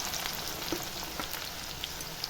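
Finely chopped small and large onions fry in oil for a paruppu urundai kuzhambu, making a soft, continuous sizzle with scattered little pops and crackles, fairly quiet and with no speech.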